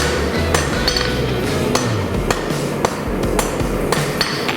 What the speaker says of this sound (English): Time for a forge weld.